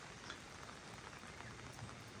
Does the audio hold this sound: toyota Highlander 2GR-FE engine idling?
no